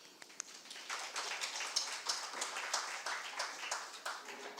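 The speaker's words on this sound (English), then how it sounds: "A round of applause." Audience clapping at the Bangalore International Center as speakers are welcomed, a fairly quiet, distant patter of hands with a few sharper claps, dense and steady for several seconds.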